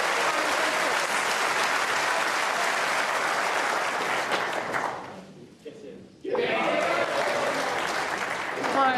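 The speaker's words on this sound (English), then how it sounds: "And listen to the crowd." A crowd at a snooker World Championship semifinal claps and cheers loudly in sustained applause that briefly dips and then surges back, with a commentator talking over it.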